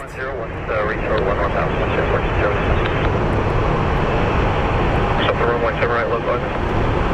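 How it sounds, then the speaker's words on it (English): An American Airlines Airbus A321 bound for Cabo rolls for takeoff at Phoenix Sky Harbor, a loud, steady broadband engine roar filling the scene throughout, with voices talking over it at times. "we have an American Airlines A321 headed to Cabo that is going to be rolling next"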